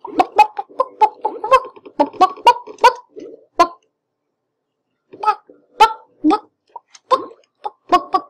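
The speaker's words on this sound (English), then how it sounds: "Alright, that's my chicken. Let me get my chicken." Chicken clucking in a soccer simulation video game: rapid bursts of choppy clucks, then a few seconds of silence, then more scattered clucks, all close and clear.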